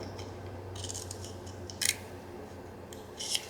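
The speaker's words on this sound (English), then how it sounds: "I find that this helps me get my scissors in a little bit easier and trim along the line" Scissors trimming along the printed line of a playing card, with two sharp, close snips and quieter rustling of paper between them.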